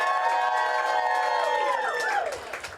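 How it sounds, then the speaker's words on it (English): A crowd at a ceremonial bill signing applauds and cheers for the City Council, with loud whoops and clapping that swell and then taper off toward the end. "So give the entire City Council a round of applause"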